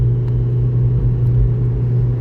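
A car drives along a 50 mph road on a driving test route in Wanstead, with a steady, loud, low engine drone and road rumble that stays constant throughout, heard from inside the car.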